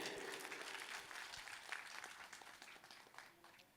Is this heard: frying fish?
no